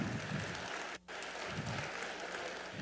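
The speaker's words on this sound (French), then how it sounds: "Hey, on peut les applaudir." Audience applause at an opening ceremony, a steady dense clapping from a crowd that fills the room, with a brief drop-out partway through.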